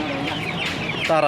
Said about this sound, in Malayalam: താറാവ്